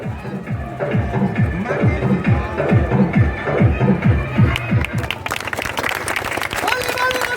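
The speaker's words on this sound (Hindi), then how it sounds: "तालियों से उनका स्वागत करते हुए" Crowd applause greets the teams at a village kabaddi match between Ballia and Pritam Chhapra, a steady wash of clapping under a male announcer's voice, growing denser and brighter toward the end.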